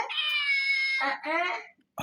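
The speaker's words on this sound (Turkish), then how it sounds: "Bir yerden kedi sesi geliyor." A toy cat lets out a long, drawn-out meow, then a second shorter one, close by and fairly loud, followed by quiet.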